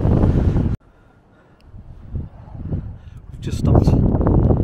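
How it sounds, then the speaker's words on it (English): Gusty wind buffets the microphone on an exposed Lake District fell, roaring loudly at the start, cutting out briefly, then rising again in bursts around a hiker who speaks through it. "You can hear the wind whipping round us."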